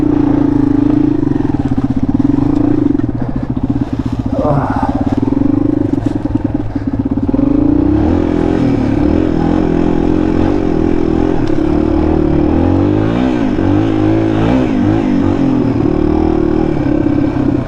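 A motorcycle ridden through a creek crossing, its steady engine drone loud and continuous throughout, with a brief clattering splash-like disturbance partway through and no talk.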